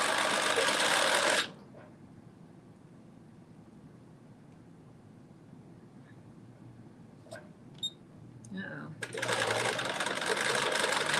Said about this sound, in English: it'll be a straight stitch going down